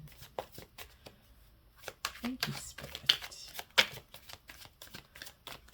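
Tarot cards are shuffled in quick riffling bursts and soft slaps, with a voice speaking briefly over them.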